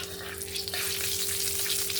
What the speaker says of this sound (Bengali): তেল তো গরম হয়ে গেছে, এবার আমি ফোড়নে দিয়ে দেব গোটা জিরে, আর তার সঙ্গে দিয়ে দেব একটু সামান্য কালো জিরে